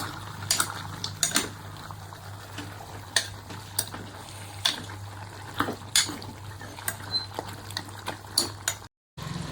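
A spoon stirs gongura chicken curry seasoned with salt and turmeric in a pot, clinking against the metal at irregular intervals over a soft, continuous bubbling simmer, with a brief dropout near the end.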